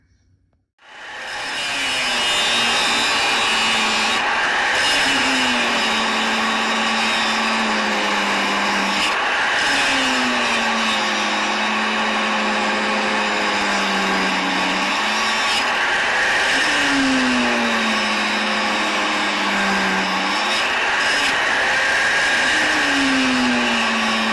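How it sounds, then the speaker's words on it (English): An angle grinder cuts through the muffler on an IH 1486 tractor, a loud, continuous metallic whine whose pitch sags and recovers in repeated dips as the disc bites and eases, with no speech. "So I'll start grinding this off."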